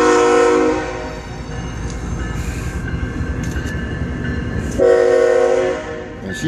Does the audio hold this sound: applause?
no